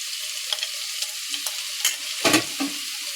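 Finely chopped ginger and garlic sizzle steadily in hot oil in a pan, broken by several scraping stirs of a spoon, close and alone with no voices.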